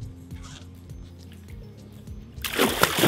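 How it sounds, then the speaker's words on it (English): A large grouper crashes into shallow water as it is released, a sudden loud splash and slosh at the end after quieter handling noises close by. "All right, let's put them back in the water."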